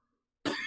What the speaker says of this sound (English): Excuse me, gotta get that cough out.